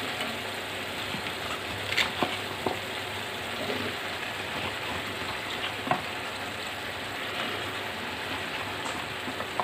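Potatoes and radish sizzle steadily in a hot pan as more vegetables go in, a continuous frying hiss with occasional clicks and scrapes of stirring, close and moderately loud, no talking.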